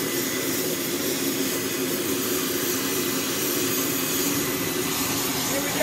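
The Concorde, the world's only running example, blasts its jet engine in a powerful, steady roar close by, a dense broadband rush that stays loud and unbroken throughout.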